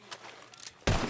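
A single gunshot fired in a quick-draw duel in a game cracks out sharply near the end, loud and close after a stretch of quiet background noise.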